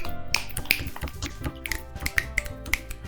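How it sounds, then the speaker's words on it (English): Several sharp finger snaps spaced unevenly over a few seconds, close and crisp, with no talking. "I learned how to snap for myself."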